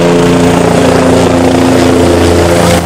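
A news helicopter flies overhead, its rotor and engine producing a loud, steady droning thrum with a constant whir throughout.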